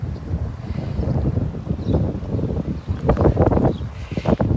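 Gusty wind buffets the microphone outdoors near the Horns of Hattin above the Sea of Galilee, a loud, continuous low rumble that swells and surges in bursts.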